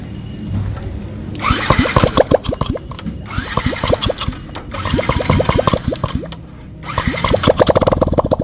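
A Yamaha Sniper 155 motorcycle, just fitted with a missing crankcase oil seal, starts up close and loud. Its rapid engine pulses rise in several revving bursts, with brief drops in between.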